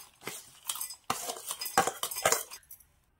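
Metal clinks and clatters as a mixer grinder jar is picked up and set down in a home kitchen, several sharp separate knocks and jingles over about two and a half seconds, then quiet.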